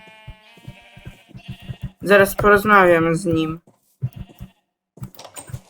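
A sheep in the video game Minecraft lets out a short run of wavering, nasal bleats, loud in the middle of the clip. Someone talks before and after, with some keyboard clicks in the background.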